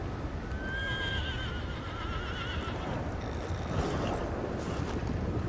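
A horse in the Red Dead Online video game gives a clear neighing whinny early on, with clip-clopping hooves continuing steadily throughout over an outdoor ambience, no talk.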